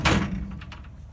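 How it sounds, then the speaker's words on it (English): A net wrap baler door swings shut with a single solid thunk at the start, then settles into faint rattles and low mechanical hum. "You shut up the door"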